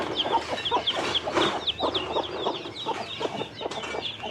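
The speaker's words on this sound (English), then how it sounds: "look at the baby chickens." A busy flock of chickens with baby chicks clucks steadily, short overlapping clucks and chirps close by, with a continuous bustle of birds throughout.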